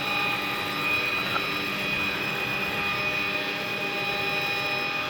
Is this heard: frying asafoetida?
no